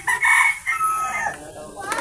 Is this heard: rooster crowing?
yes